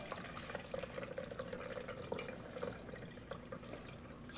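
Bone broth poured slowly through a fine strainer, a soft continuous trickle and splatter of liquid with faint drips, quiet and close.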